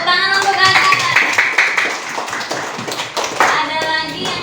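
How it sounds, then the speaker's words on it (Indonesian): Children in a classroom clap their hands in quick, uneven bursts close by, with a voice and chatter mixed in. "Tepuk tangan untuk kakak."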